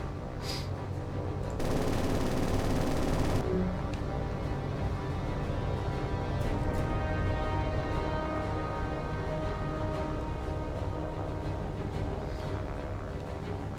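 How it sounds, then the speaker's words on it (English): Aircraft machine guns firing in the War on the Sea naval combat game: a dense, continuous burst of rapid fire over a steady roar of engines and battle noise, loud and unbroken, with no voices. "Look at all these aircraft shooting at us."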